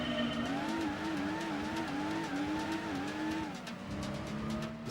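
Old car in the Gran Turismo 2 racing game, its engine droning steadily with rising and falling pitch as it drives, tyres occasionally squealing, loud and continuous throughout.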